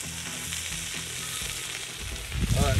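Bacon sizzles steadily in a pan at a mountain campsite in the morning, a continuous crackling fry with a brief louder burst of spitting near the end.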